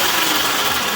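Electric motor of a motorbike conversion spinning up, a loud, steady broadband whir that fills the whole short moment without pause or voices.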